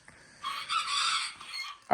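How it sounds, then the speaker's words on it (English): Hens and chickens in a backyard poultry setup give a loud, close burst of clucking and squawking lasting about a second, with a shorter flurry after; a rooster crow may be among the calls. "Some of these old hens are some of the original hens that come from Stacy."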